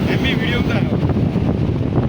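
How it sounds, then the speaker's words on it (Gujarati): Strong wind buffets the microphone in a constant roar, mixed with the low churn of rough sea at Gomti Ghat in Dwarka, and a voice is briefly audible beneath it. "પવન એટલો છે અને દરિયો તમે જોઈ શકો છો"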